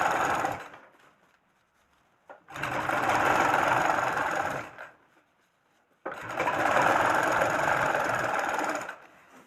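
A sewing machine stitches along the edge of a gathered-hem pajama in two long, steady bursts of loud mechanical whirring, separated by short pauses of near silence.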